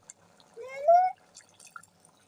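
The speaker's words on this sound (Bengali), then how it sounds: "আমরা এখন একটু নেড়ে চেড়ে সামান্য পরিমাণ জল দিয়ে দিচ্ছি" A small splash of water poured into a pot of rohu fish-head curry with tomato and potato, a brief trickling pour that rises in pitch as it fills, with faint kitchen clatter around it.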